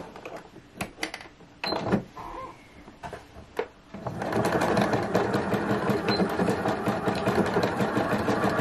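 Sewing machine stitching a bulky knit cardigan seam, with a few short bursts and pauses early on, then a steady continuous whir running close and loud to the end.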